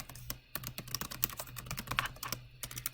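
Quick, irregular clatter of keys typed on a computer keyboard, close and fairly quiet, with short pauses between bursts and no talking.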